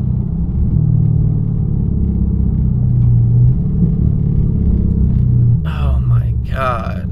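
A Dodge Hellcat with a failing transmission or torque converter rolls along, its low drone and rumble heard from inside the car, with a voice speaking briefly near the end.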